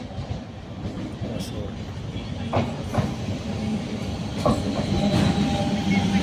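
A suburban train pulling into Yeshwanthpur station in Bengaluru: a loud, steady rumble with scattered wheel clacks and thumps that build slightly as it draws in.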